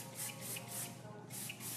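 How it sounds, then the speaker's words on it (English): Hair product sprayed onto hair during a salon cut and styling session, heard as several soft, breathy bursts in a steady rhythm, fairly quiet and close, with no talk over them. "Spray this in."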